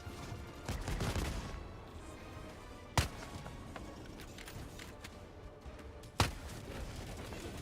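Gunfire from a shooter video game weapon: a rumbling burst early on, then two sharp, isolated shots a few seconds apart over a low, busy game background.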